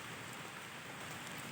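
Sudden rain that is easing off falls steadily on outdoor surfaces as an even, broadband hiss, fairly close and continuous, with no voices.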